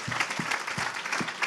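Applause from an audience at a city New Year's greetings ceremony in Rezé, a steady dense clatter of many hands clapping at moderate volume, with no talk over it.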